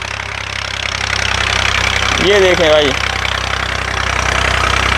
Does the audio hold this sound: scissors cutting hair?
no